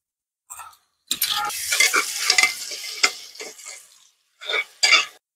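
Garlic paste stirred into browned onions frying in a pot for mutton curry: short bursts of sizzling and scraping spoon strokes, separated by quiet pauses, close and moderately loud.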